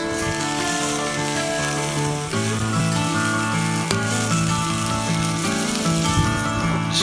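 Bacon sizzles steadily as it fries over a campsite stove or fire, a continuous hiss and crackle that stays close and loud for the whole stretch with no talking.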